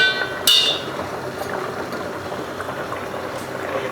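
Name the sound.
fish gravy boiling in a pot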